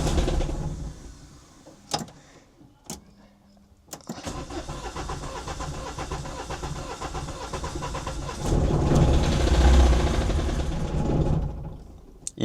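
A Citroën C15 diesel engine cranks in short bursts, then catches and runs roughly, surging louder before sagging as it fails to hold idle; close and loud, with no talking.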